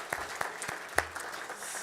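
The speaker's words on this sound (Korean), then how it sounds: "우리 박수하겠습니다." Scattered handclaps from a church congregation during a Sunday worship service, a few sharp separate claps spaced across a short, fairly quiet stretch rather than a full round of applause.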